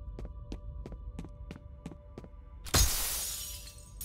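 Glass shattering in the video game F.E.A.R., a sudden loud crash near 2.7 s that trails into tinkling fragments, following a series of soft, regular thumping pulses over a low hum.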